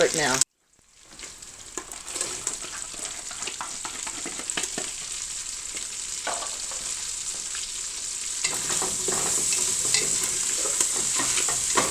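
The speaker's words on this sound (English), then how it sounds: "my bacon is getting done, and it says to add the onions and the garlic now" Bacon, onions and garlic sizzle steadily in a pan, a close, continuous crackling hiss that starts after a brief silence and grows slightly louder, with some stirring.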